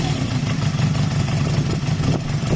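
Honda CB250 Nighthawk bobber motorcycle idling steadily while warming up on its original carburetor with the choke on, a continuous low rumble close by with slight fluctuations and no talk.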